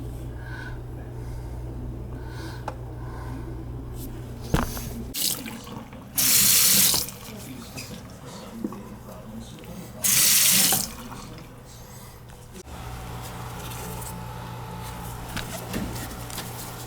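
A kitchen sink faucet with a low-flow problem runs water at a modest, steady stream, broken by two loud bursts of full-force gushing, each about a second long, with faint clanks and handling noises between them.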